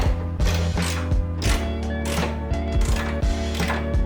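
A torque wrench tightening the bolts of a Cusco strut bar on a Toyota 86, rapid loud ratcheting clicks in several bursts close by, with no talking.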